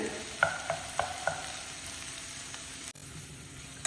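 Okra (vendaikkai) stir-frying in oil in a pan, a steady low sizzle broken by a few sharp scraping stirs near the start, with a brief dip partway through before the frying resumes.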